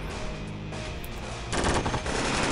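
Anti-aircraft unit firing in a war video game, a rapid continuous stream of gunfire that grows denser and louder partway through, with no talk over it.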